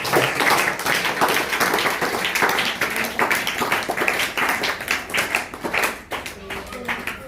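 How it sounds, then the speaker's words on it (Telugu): A school audience of meditation students at ZPHS Gouthampur clapping loudly together, a dense continuous patter of many hands that dips briefly near the end. "ఫస్ట్ ఆఫ్ ఆల్ మీకు మీరు క్లాప్స్ కొట్టుకోండి గట్టిగా ఒకసారి"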